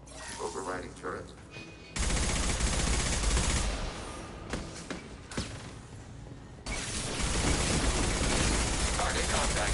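A defensive turret firing in the Mass Effect video game: sustained, loud, rapid automatic fire in long bursts with a brief lull, while a voice speaks underneath.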